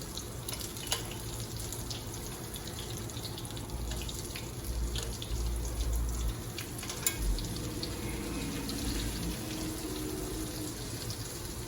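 Beer-battered mushrooms frying in hot oil: a continuous, even crackle and hiss close by, with a few faint clicks of handling over a low background hum and no talking.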